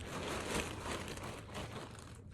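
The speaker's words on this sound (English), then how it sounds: "the amount of plastic bags I have" Plastic shopping bags from a mall trip crinkle and rustle continuously at close range, with a dense, crackly texture and no talking.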